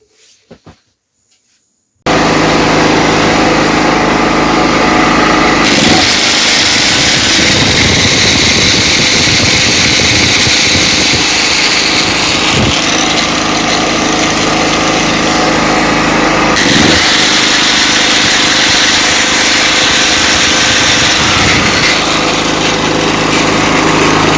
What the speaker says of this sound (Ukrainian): бензогенератор, плавають оберти на холостих